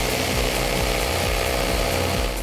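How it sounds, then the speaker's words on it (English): A Festool PS 420 EBQ-Plus jigsaw cuts through material, its blade chattering in a fast, even rhythm under a loud, continuous motor whine, close up with no voices. "So now I've entered the material at 90 degrees, clean, splinter-free cut all the way along."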